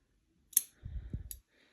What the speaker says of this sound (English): I'm gonna actually use scissors to separate that this time